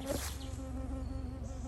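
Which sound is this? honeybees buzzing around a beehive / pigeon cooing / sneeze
honeybees buzzing around a beehive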